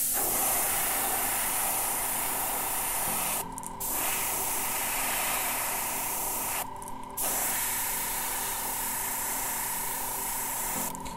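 An airbrush sprays charcoal paint onto a crappie-pattern crankbait lure, a loud continuous close hiss broken by two brief pauses, no talk.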